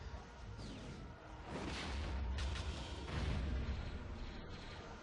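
Bomb explosions in the space combat game Star Wars Rogue Squadron III, heavy rumbling booms rolling one into the next over a dense, steady roar of engines and battle noise.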